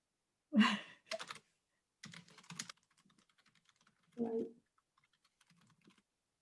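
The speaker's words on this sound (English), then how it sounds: "I'm just going to type that in." Typing on a computer keyboard, short bursts of quick key clicks separated by pauses, then a few light scattered taps, close and fairly quiet.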